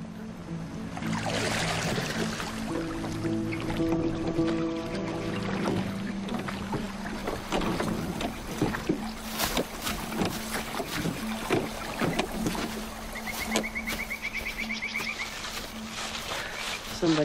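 Oars row a boat after its engine has been switched off, a series of watery splashes and strokes over an open outdoor ambience, with voices talking at times.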